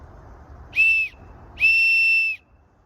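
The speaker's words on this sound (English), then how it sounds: "This whistle" A survival whistle from a pocket survival kit gives two shrill, steady blasts, a short one and then a longer one, loud and close with nothing else heard.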